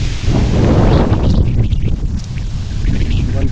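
Strong wind at Maranum Falls in Natividad, Pangasinan, Philippines, roars loudly and steadily across the microphone, a constant low buffeting rumble with no break.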